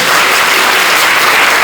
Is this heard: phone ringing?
no